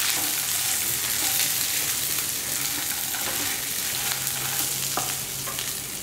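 Ridge gourd and coriander stems sautéing in a pan for a vegetable peanut chutney, a steady broadband sizzle with occasional soft scraping clicks from stirring, close and continuous with no talk.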